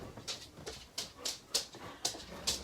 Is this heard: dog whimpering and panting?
yes